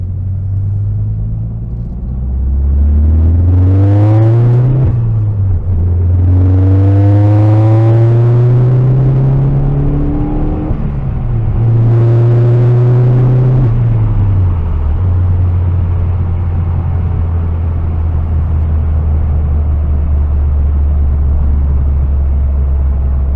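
A car engine revs up and drops back several times, rising in pitch with each push, over a constant loud rumble that settles into a steady drone.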